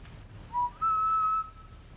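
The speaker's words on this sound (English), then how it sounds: "I just heard a whistle again." A single short whistled note followed by a longer, steady whistled tone, faint and thin over a quiet background hiss.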